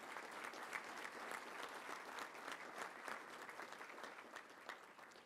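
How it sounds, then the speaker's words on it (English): An audience at a Little Rock Touchdown Club luncheon applauds. Many hands clap in a soft, steady, fairly distant patter that holds evenly throughout. "Let's give all of them a big round of applause for being here."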